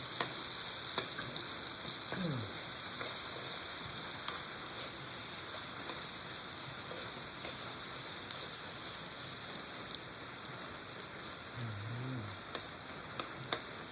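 Chayote and pork sauté in a pan with a steady, fairly quiet sizzle throughout and a few faint stirring clicks, no voices.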